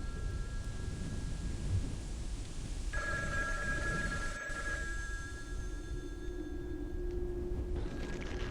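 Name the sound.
telephone ringing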